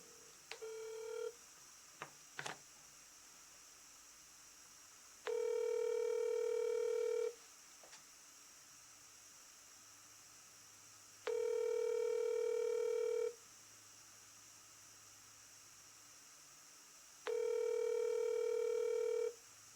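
Telephone keypad tones and ringback repeat while a call goes out to a local number: a few short dialing beeps early on, then three evenly spaced, steady ring tones of about two seconds each, clear and alone with no talk.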